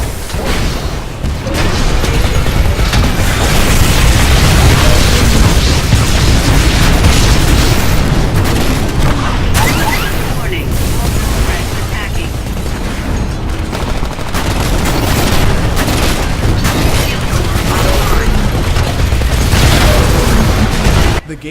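Explosions in Titanfall gameplay, a fast-paced first-person shooter with wall-running and giant robots, boom loudly amid continuous bursts of gunfire and machine-gun fire, a dense, relentless battle din with no talking.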